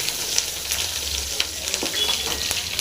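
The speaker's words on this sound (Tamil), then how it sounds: "இடிச்ச இஞ்சிக்கு நல்லா நல்லா வந்து எண்ணெயில் க்ளீனாக ஃப்ரை ஆகட்டும்" Green chillies and crushed ginger frying in oil for a puri potato masala, producing a steady close sizzle with faint crackles and light stirring taps, no talk.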